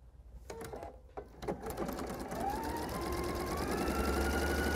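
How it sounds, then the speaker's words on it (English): A sewing machine stitches quilt diamond pieces, starting with a few short bursts and then settling into a steady, continuous whir that holds close and fairly loud to the end. "I should have no problem starting to sew because there are no seams at all to contend with"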